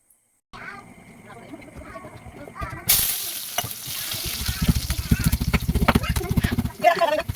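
Shepu (dill) vadi frying in a pan on medium gas, starting as a quiet, steady sizzle and then swelling into a louder, crackling fry with stirring clatter; a voice talks over part of it.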